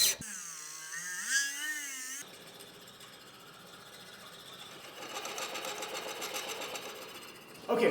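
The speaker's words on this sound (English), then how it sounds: "I've now moved from hand files to the die filing machine" A die filing machine files a square slot in a knife with a continuous fast reciprocating buzz, close and steady, after a brief higher whine at the start.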